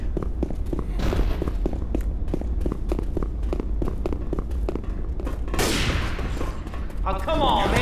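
Left 4 Dead 2 gunfire comes as rapid, rhythmic shots over a loud, dense game mix, ending in a burst of explosion-like noise, while voices shout in the background.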